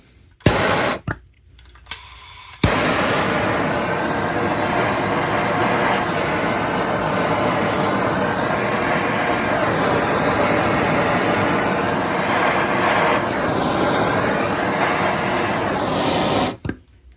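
A MAP gas torch burns with a loud, steady roaring hiss while heating a chainsaw piston, lit after a couple of brief bursts and holding continuously until it cuts off near the end.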